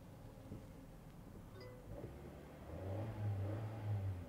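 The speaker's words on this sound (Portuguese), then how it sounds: "partida por botão" A Chery Tiggo 5X is started by push button; its engine catches quietly partway through and settles into a low, soft idle, heard up close in a calm interior with no talking.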